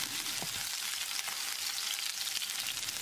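Garlic, ginger and chili sizzle steadily in hot oil, a dense crackling hiss with a few soft stirring clicks, close by.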